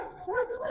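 A dog barks once, giving a short, moderately close yelp outdoors.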